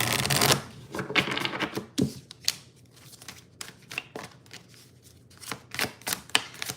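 Moonology oracle cards are shuffled by hand for a reading, with a burst of riffling at the start followed by a run of quick, crisp card slaps and flicks at irregular intervals, close and fairly quiet.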